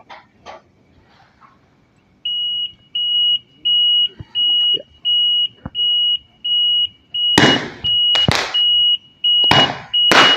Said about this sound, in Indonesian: lampu LED dan buzzer alarm menyala